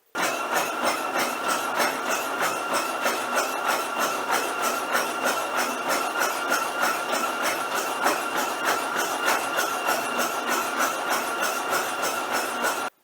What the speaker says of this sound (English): Let's try to bump the treadmill up to 12 mile an hour now.